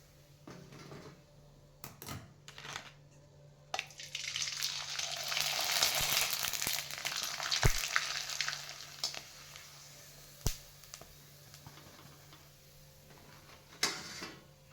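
Rava papad dropped into hot oil, a soft start swelling into a strong bubbling sizzle that fades away, with scattered sharp clicks and knocks of utensils nearby, no talk.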